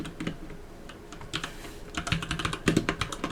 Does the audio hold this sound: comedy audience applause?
no